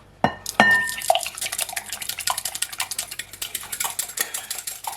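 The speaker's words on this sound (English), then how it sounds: "we just beat an egg" A beaten egg is whisked in a bowl, starting with a few sharp clinks and then settling into a quick run of light rhythmic tapping and scraping, close and clear with no talk.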